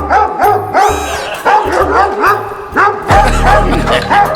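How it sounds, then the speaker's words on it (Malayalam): A dog gives a rapid string of loud, close barks and yips, about eight in quick succession, with a low rumble underneath toward the end. "എന്തൊരു പട്ടി"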